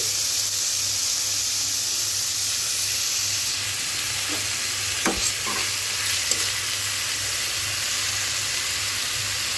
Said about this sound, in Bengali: যে খোসাটা আছে সেটা ভাজি করব ভাজিটা রান্না শুরু করতেছি